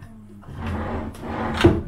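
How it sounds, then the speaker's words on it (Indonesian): A drawer slides open in a hotel room, a close wooden rumble and scrape that ends in a soft knock, with quiet room tone and faint speech around it. "Ini kosong laci untuk tempat menaruh barang-barang kita."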